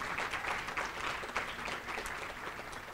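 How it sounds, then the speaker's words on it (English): Applause for Brockton High School students at an evening gala, a dense steady wash of many hands clapping that holds at an even level from start to finish, with no voices over it. "Please give them another round of applause for what they have done."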